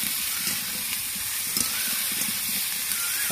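Raw potatoes fry in a pan for chicken curry, a soft steady hiss of sizzling oil with faint stirring taps scattered throughout.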